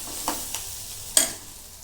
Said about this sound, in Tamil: இதெல்லாம் ஒன்றா போட்டு நம்ம வந்து வதக்கி எடுத்துக்கலாம். பாருங்கள், வெங்காயம் நல்லா வதங்கிடுச்சு.